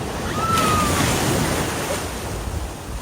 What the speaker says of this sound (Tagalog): Ayan yung wave.